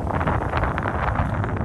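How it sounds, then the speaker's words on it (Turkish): Steady wind buffets the microphone at a quiet cove on the Datça coast at night, a continuous broadband rush with gentle swells and no clear breaks, heard close and fairly loud with nothing else on top. "Biraz rüzgar var"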